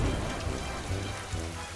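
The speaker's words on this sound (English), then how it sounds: "Suddenly, a thunderstorm started." A cartoon thunderstorm plays as dense, steady rain hisses loudly throughout, with low rumbling thunder swelling underneath.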